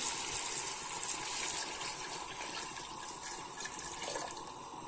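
Water is poured over browning meat in a pot while making meat soup. A steady, moderately quiet rushing gush runs throughout with no speech.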